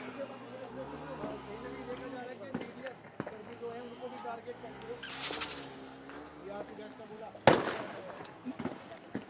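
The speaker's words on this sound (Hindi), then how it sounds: "लगातार चारों तरफ से ये देखिए धमाकों की आवाज आ रही है।" Dull booms and a sharp crack go off amid a crowd's noise at a farmers' protest at the Shambhu border as police fire, while a voice keeps talking over the commotion.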